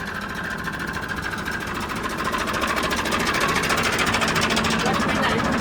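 A tractor engine runs steadily while pulling a harvester stuck in the mud at a paddy harvest. It makes a continuous rhythmic chugging that grows slightly louder partway through, with faint voices underneath.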